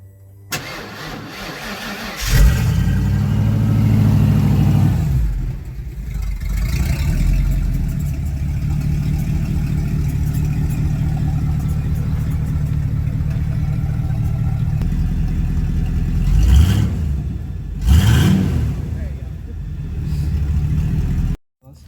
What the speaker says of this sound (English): Here's cold start, F150 XLT 1993.